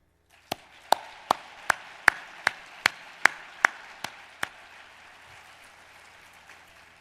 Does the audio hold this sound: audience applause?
yes